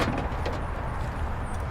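The rear side-hinged, barn-style door of a 2014 Lexus GX460 SUV swings open in a brief, fairly quiet burst of latch and hinge noise.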